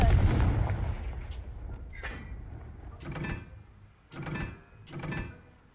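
A Confringo fire spell blasts repeatedly in Hogwarts Legacy. A heavy booming burst opens the sequence, then three more punchy explosive thumps follow at intervals, each with a short rumbling tail.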